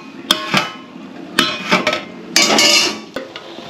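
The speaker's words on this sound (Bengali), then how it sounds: "ঢাকাটা আবার চাপা দিয়ে দেবো।" A metal lid knocks and clinks back onto a cooking pot holding rice with fried nuts and raisins, several sharp bright clanks and scrapes close by, with no talking.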